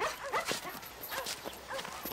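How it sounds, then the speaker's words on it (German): A dog barks several times in short bursts near a car, with a few yips mixed in, close and fairly loud against a quiet background. "Dein Hund ist drin."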